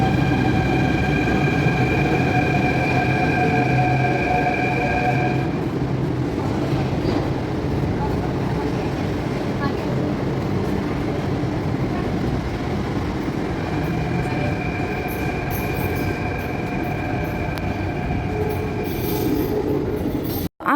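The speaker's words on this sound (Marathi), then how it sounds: "मेट्रोने आम्ही चांदपोलला आलो आमच्या हॉटेलपासून." Metro train ride in Jaipur, with a steady loud rumble of the carriage throughout, wheel and motor whine rising and falling in tone, and faint voices beneath.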